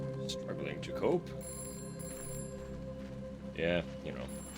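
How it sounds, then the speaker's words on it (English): A telephone rings in a home, its steady electronic tone running under the scene, with louder accented bursts that stand out above someone talking throughout. "Phone."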